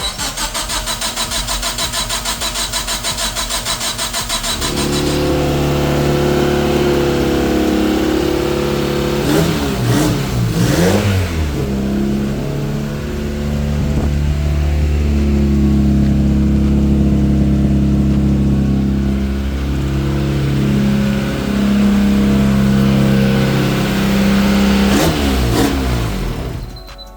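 A 4G15 Mivec turbo engine cranks briefly, catches and fires up loud and close, then settles into a rough idle broken by a few sharp throttle blips and revs.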